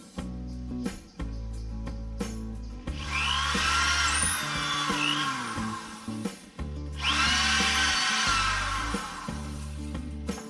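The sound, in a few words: power drill pre-drilling wood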